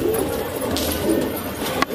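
Roosting pigeons coo at night in a loft, soft continuous low murmuring with a few rustles and a sharp click near the end.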